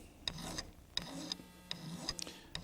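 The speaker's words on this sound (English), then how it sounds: "We're going to take a file and just make sure this is good and flat." A hand file rasps across the end of a cut brake line to square it flat, a quiet series of short scraping strokes in an irregular rhythm, close up with no talk.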